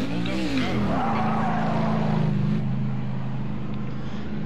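A Daytona 500 race car's engine held at steady high revs during a pit stop, a loud sustained drone that rises at first and then holds level, with faint talk over the radio.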